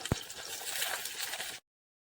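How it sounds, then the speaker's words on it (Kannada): Curry leaves, crushed garlic and green chillies sizzle in hot oil, a steady hissing fry with a sharp pop at the start that cuts off abruptly into silence. "ಇದೆಲ್ಲ ಸ್ವಲ್ಪ ಫ್ರೈ ಆಗಬೇಕು."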